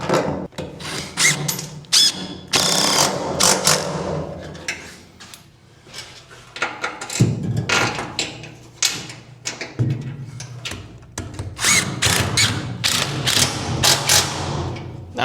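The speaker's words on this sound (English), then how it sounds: "I'm going to put a couple of lag bolts through the bed and into the wood." Lag bolts driven through a truck bed into wood for a homemade bed dolly, with irregular grinding, creaking and knocking bursts, close and moderately loud, no speech.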